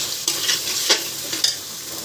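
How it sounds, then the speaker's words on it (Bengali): Spices frying in hot oil while being stirred in a pan, a steady broadband sizzle broken by several short scraping stir strokes, close and fairly loud with no talking. "মশলাটা একদম ভালো করে ভাজা হয়ে গেছে, মশলার থেকে তেল বেরোচ্ছে"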